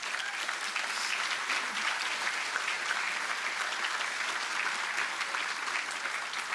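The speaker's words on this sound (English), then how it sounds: "they all deserve a round of applause." An audience gives a round of applause at a ribbon-cutting ceremony for a student-athlete performance center at Middle Tennessee State University. The clapping is dense and even, held at a constant level throughout.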